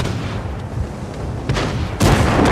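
A tank cannon fires in World of Tanks, with a Cromwell in play: a heavy booming shot lands near the end after a low rumbling battlefield background and a smaller thump midway.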